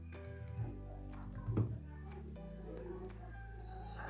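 Keys on a computer keyboard clack in a short run while an email address is typed, soft and close, beneath a steady low hum and some background tones.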